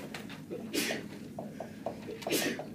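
A single sneeze in a classroom, sharp and fairly close, with a second burst near the end among quiet room noise and shuffling.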